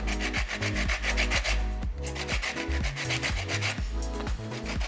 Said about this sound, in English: We're also going to zest a lemon.